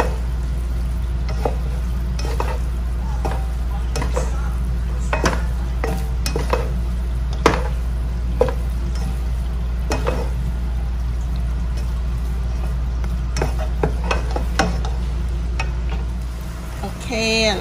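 Lobster and noodles tossed in garlic butter in a pan, with repeated scraping and clinking of utensil against metal over a soft sizzle and a steady low hum.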